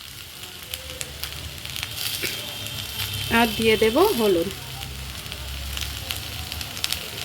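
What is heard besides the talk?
spices frying in a pan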